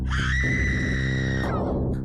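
A girl screams in an audio drama, one long loud sustained shriek lasting about two seconds that rises and then trails off, heard alone with no talk.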